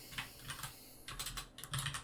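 Rapid clicking keystrokes on a computer keyboard come in short bursts separated by brief pauses, close and fairly quiet, with no talking.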